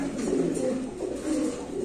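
Spanish pigeons and a young squab coo in a loft, a low throaty murmur that swells and fades twice over about two seconds, fairly close and steady, with no talk.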